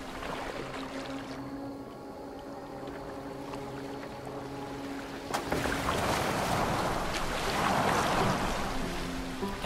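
Boat gliding across open water in Assassin's Creed Valhalla, a steady wash of water with a low hum and faint tonal layers, swelling into louder splashing surf midway and staying fairly close.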